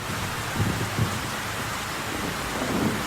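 Rain and thunder sound effect: steady heavy rainfall hisses throughout while low thunder rumbles softly in a few brief rolls, distant and muffled beneath the rain.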